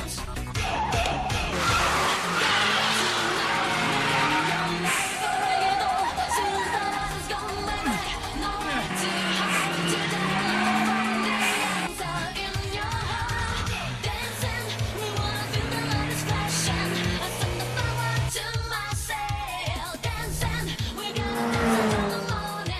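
A car brakes and turns at extreme speed in a street race, its engine roaring and tires squealing in long sliding tones, loud and continuous under music and effects.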